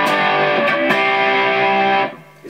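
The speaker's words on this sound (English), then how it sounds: "is a distortion. It's very rich and creamy. It's very smooth." An electric guitar played through a Boss JB-2 Angry Driver distortion pedal rings out as a thick, sustained distorted chord, struck again briefly, then cut off after about two seconds.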